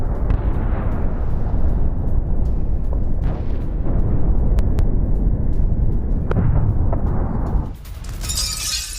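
A blast at a polystyrene warehouse in Rostov, Russia, comes through as a heavy, continuous roar with sharp cracks and bursts, loud and rumbling throughout, then abruptly cut.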